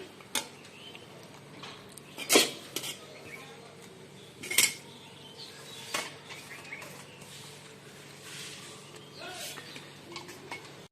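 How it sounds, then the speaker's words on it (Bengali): A spoon scrapes and clinks against a plate while rice is served at home, with several sharp metallic taps spread over a quiet background and soft handling noises in between. "ভাত বেড়ে নিচ্ছি"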